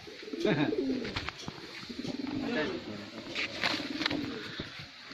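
A pair of green-eyed Kaldum pigeons coo in low, rolling murmurs, repeated several times nearby, with a voice speaking over them and some scraping noises in between.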